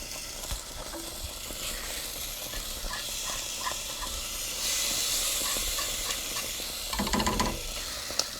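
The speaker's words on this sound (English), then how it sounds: "Whew, that steam is very hot." Steady hot steam hisses and sizzles from a pot of mushroom pot pie filling on the stove, a continuous close hiss with a brief louder surge and light clinks of stirring near the end.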